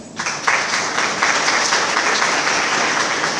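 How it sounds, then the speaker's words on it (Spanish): Audience applause at a formal academic event in honour of a tourism vice-minister, a dense, steady wash of many hands clapping that swells quickly and holds at full strength throughout. "les pido un fuerte aplauso"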